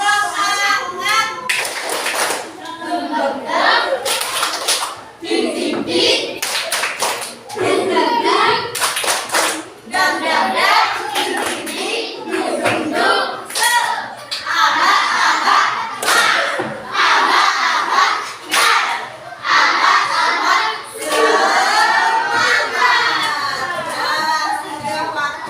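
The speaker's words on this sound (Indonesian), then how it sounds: "kita tepuk semangat terlebih dahulu" A class stands and performs the tepuk semangat chant, with many hands clapping in quick rhythmic bursts between shouted group chanting. The sound stays loud and busy throughout, in a lively room.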